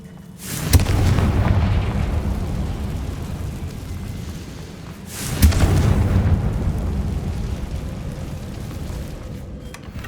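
Confringo, an explosive spell from Hogwarts Legacy, goes off twice, several seconds apart: each blast hits with a sharp, loud crack, then trails into a long, rolling rumble that slowly fades.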